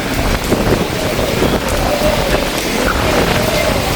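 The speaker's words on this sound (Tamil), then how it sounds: "பயங்கரமாக அடிக்குது காற்று" Strong storm gusts roar steadily across the microphone at Keerimalai, a loud rushing buffet with a patter like rain mixed in, no voices.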